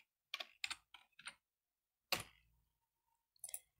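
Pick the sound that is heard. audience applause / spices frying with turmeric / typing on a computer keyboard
typing on a computer keyboard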